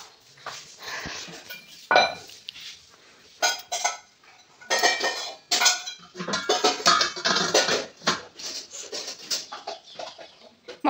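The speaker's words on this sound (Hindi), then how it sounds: "अपनी मम्मी इधर बर्तन जमा रही हैं।" Kitchen utensils being arranged and put away at home, a series of close clattering clinks and knocks of pots and dishes in irregular bursts, with birds faintly audible in the background.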